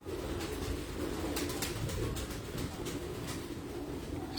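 Red-eyed show pigeons coo softly in a quiet loft, a low steady murmur with no talking.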